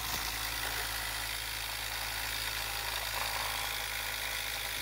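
3D printed pulse motor spinning at about 2900 RPM, a steady, close whirring hum with a continuous hiss and no pauses throughout.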